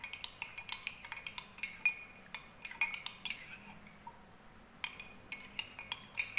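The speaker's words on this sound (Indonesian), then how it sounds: "Nah, kemudian ini kita aduk rekan-rekan sampai bercampur antara jeruk dengan" A spoon stirs citrus fruit with sweet soy sauce in a dish, giving a quick series of close metallic clinks and scrapes in irregular bursts, with a brief pause midway.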